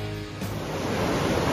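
Small waves, about a foot high, break on a calm California coast, giving a steady broadband wash of surf that stays close and fairly loud.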